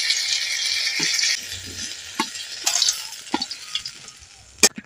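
Bottle gourd leaf parcels stuffed with small fish frying, a bright sizzle that fades after the first second into sparse clinks and scraping knocks of a utensil against the pan.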